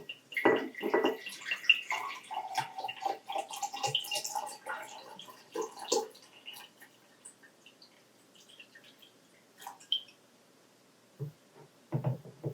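Cold tap water and freshly boiled tap water are poured into cups, giving a splashing, trickling pour over the first six seconds, then quieter scattered drips and small clinks near the end, with no talking.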